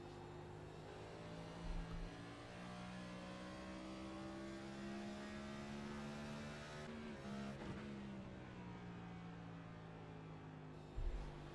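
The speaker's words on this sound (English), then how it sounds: "you can hear it there from Barker, just grabbing 5th gear before he has to lift for these corners" A sim Next Gen Cup race car in iRacing at New Hampshire Speedway, its engine droning with a steady tone as it grabs fifth gear before lifting for the corners, faint and continuous with no talk.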